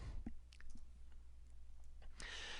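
Computer keyboard typing while entering an Excel payment function: a few soft, scattered key clicks over a low steady room hum, with no talking.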